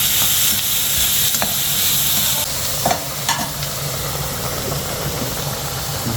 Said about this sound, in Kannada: ಮಾಮೂಲಿ ಮೆಣಸಿನ್ಕಾಯಿ 1-2 ಎಣ್ಣೆಯಲ್ಲಿ ಫ್ರೈ ಮಾಡ್ಕೋಬೇಕು ನೀಟಾಗಿ